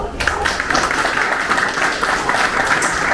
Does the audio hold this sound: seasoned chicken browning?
no